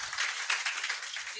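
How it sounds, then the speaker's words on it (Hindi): Brief scattered applause for Yogesh Sharma rises in a classroom, a short burst of clapping lasting just over a second, fairly faint. "ताली बजाओ योगेश के लिए"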